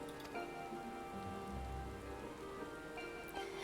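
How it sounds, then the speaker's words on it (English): Steady rainfall in the video game Final Fantasy XIV, a soft continuous patter of drops on surfaces with faint game music underneath, quiet and unbroken. "Yes, we made it rain."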